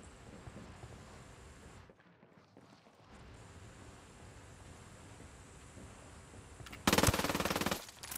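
Gunfire from Ghost Recon Wildlands carries through a steady, rushing wash of game noise, ending in a sudden loud, dense burst near the close.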